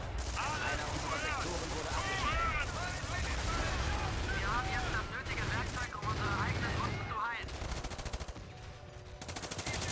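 Video-game rifle fire from Volksgrenadiers in a WWII battle, rapid bursts of shots mixed with explosions and battle noise, heard under continuous talk.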